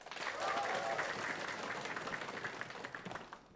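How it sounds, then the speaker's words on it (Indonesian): A studio audience at a TVRI Sumsel quiz show applauds after team cheers, with a sustained burst of clapping from many hands that fades slightly toward the end. "Kita berikan tepuk tangan yang meriah."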